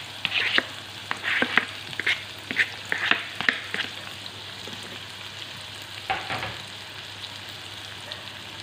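Chopped onions dropped into hot oil with cumin seeds crackle and spit in a bright sizzle, with several sharp bursts early on that settle into a softer, steady frying hiss.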